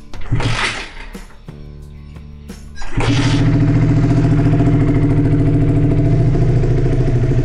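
Honda CB150R motorcycle after an oil change, fitted with an aftermarket exhaust: a rough start with brief revving and stalls, then the engine catches and settles into a loud, steady, throbbing idle close by.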